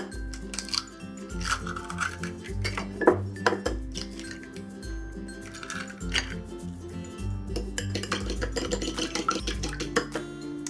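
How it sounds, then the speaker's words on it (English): Eggs are cracked and whisked in a bowl while preparing hot and sour soup, with quick rhythmic clinks and taps of utensil on the bowl, close and fairly quiet, continuing throughout. "Let's crack and whisk the eggs."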